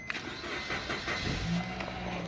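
A 4x4 car with 72,000 miles and a lit check engine light, at a dealer auction, slowly cranks and starts with a sustained, close, churning engine noise and no speech.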